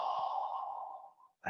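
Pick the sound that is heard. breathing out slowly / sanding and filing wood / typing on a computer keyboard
breathing out slowly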